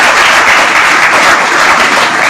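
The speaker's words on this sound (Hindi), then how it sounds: "उनके लिए भी ताली।" Sustained, loud applause fills the hall at a Hindi stage performance of Premchand's novel Rangbhoomi as the audience claps for the cameramen, a dense, steady roar of hands with no voices over it.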